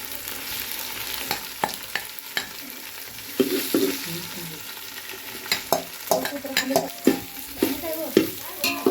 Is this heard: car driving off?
no